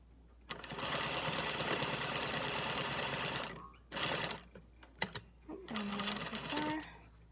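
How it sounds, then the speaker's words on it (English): A sewing machine stitches a folded belt seam on an isolation gown made from bed sheets, with a long steady run of rapid stitching, a pause, then shorter bursts, close and loud. "And then I'm going to sew this closed."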